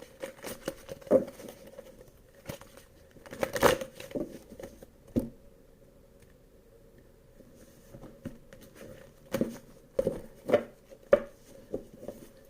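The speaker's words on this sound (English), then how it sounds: "One more shuffle, please, for Leo" A deck of tarot cards being shuffled by hand, giving soft, quiet riffles and taps in irregular clusters with pauses between them, close up and without talk.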